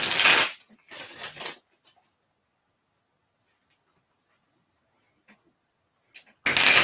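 Tarot cards shuffled by hand in two quick riffling bursts, then near silence with a few faint taps before another burst of shuffling at the end.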